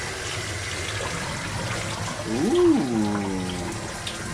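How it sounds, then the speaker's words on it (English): Running water rinses a rainbow-stripe scrunch tie-dye tee, a steady rushing wash throughout, with a person briefly exclaiming over it partway through. "Water's running good and clear."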